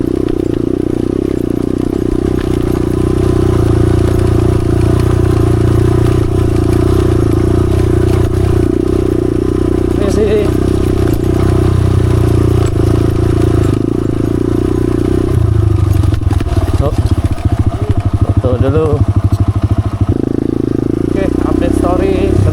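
An automatic scooter motorcycle rides along a rough road to the Tancak Panti waterfall in Jember, its engine droning steadily and close with rattles and bumps from the uneven surface, while a rider talks over it.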